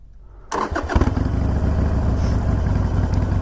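A 2019 Harley-Davidson Iron 883 fitted with cheap slip-on exhaust fires up after a brief quiet moment, then settles into a loud, close, lumpy idle that rumbles on steadily.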